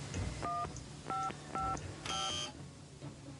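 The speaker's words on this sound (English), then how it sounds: "here is the phone booth with the keypad" A phone booth keypad in the video game Deus Ex sounds a quick series of four dialing tones, evenly spaced beeps ending in a slightly longer tone, over a quiet ambient hum.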